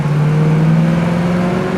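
A 1969 Chevrolet Camaro's engine pulls steadily and loudly as the car accelerates, a sustained rising hum heard up close without talk.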